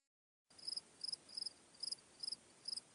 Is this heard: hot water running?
no